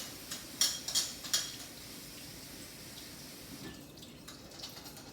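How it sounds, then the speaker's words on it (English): Cut Chinese okra being washed under a running tap, with a few quick clinks of utensils early on over a steady, soft water rush close by. "I have this cut vegetables which is already cut, so I am washing it"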